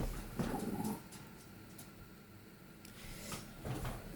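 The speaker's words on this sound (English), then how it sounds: "sorry about my doggy" A dog whimpers faintly indoors in a few soft, high whines. They come in brief bursts at the start and again near the end, with quiet room tone in between.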